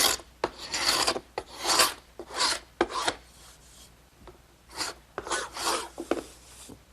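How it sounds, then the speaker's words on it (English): An ordinary paint scraper rasps dried glue beads off a wooden candle stand glue-up in repeated short strokes, close and fairly loud, with brief gaps between scrapes. "I'm just going to use an ordinary paint scraper"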